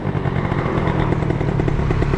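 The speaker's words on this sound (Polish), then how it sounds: "no uwielbiam jeździć skuterem" A scooter engine buzzes steadily while riding, with a continuous close, rough drone and no break.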